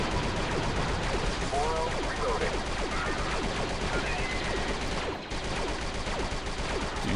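Turret gunfire in Star Wars Republic Commando, rapid continuous bursts of shots that stay loud throughout, with a short dip near the end.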